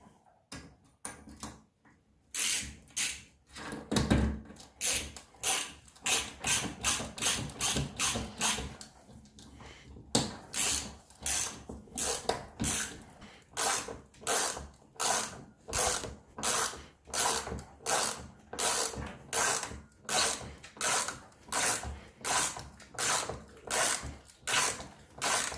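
A Parkside hand ratchet fitted with a universal socket drives a large screw into wood, giving a steady run of sharp, close clicking pawl bursts that start sparse and then repeat in a fast, regular rhythm, with no talking.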